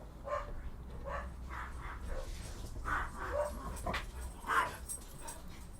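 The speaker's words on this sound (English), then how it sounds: "Where are the dogs howling?" Several dogs howl and yip faintly in the distance, their wavering cries rising and falling over a low background hum.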